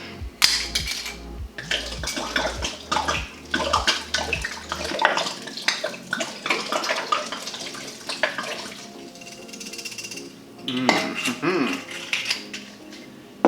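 Wine glugs from a bottle into a pitcher of sangria, a steady pour with splashing liquid and a few light clinks of glass, close and fairly loud throughout.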